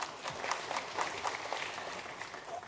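Quiet, distant patter of audience clapping at a blockchain incubator demo day, a soft continuous wash of hands with no voices over it.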